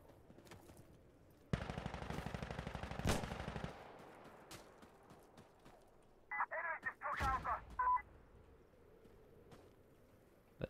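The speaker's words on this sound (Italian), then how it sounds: "perché arrivano colpi in qua?" Gunfire in the game Insurgency Sandstorm: a fast automatic burst rattles for about two seconds, then single sharp shots and a second choppy volley follow against a quiet background.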